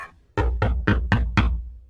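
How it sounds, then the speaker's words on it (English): Someone knocks on a door five times in a quick, even rhythm. The raps are close, solid and loud, with no voices. "Suddenly, there is a knock at the door."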